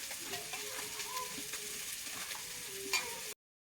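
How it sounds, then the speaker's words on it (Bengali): Prawn pakora batter being mixed by hand with water added little by little, a close wet squelching and stirring texture, quiet and continuous, with a small sharp knock near the end before it cuts off. "এই মেখে নিচ্ছি এইভাবে, কম কম করে জল দিতে হবে"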